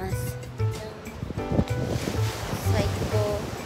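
Sea surf rolls steadily on the beach at Cannes, a continuous wash of breaking waves that sits beneath people talking close to the microphone throughout.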